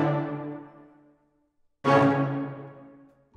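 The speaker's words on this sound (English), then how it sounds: "I used a bunch of various orchestral instruments to create these big chord stabs." Two big orchestral chord hits, each a full, bright blast that slowly fades, separated by a moment of silence.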